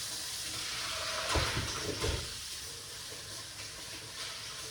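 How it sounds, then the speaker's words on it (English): Fresh juice ingredients for a green juice rinsed under running kitchen water, a steady tap stream with a few louder splashes and rustles midway, no talking. "Let's get the ingredients and wash off, guys."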